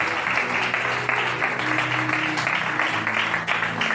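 An evangelical church congregation at a Sunday service applauds continuously, with a dense, close wash of clapping and a faint musical tone running beneath it.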